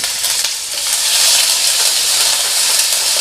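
Garlic and ginger fry in hot oil, giving a loud, close, continuous hiss and sizzle with light spattering throughout.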